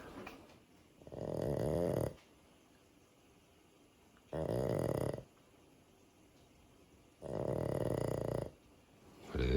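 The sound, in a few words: dog snoring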